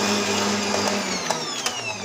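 An electric hand mixer whips a powdered-sugar glaze with a close, continuous whirring motor hum and a steady whine that holds level throughout.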